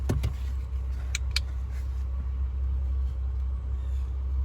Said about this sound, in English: I turned on the car, turned the engine on, and ran it full speed on the blower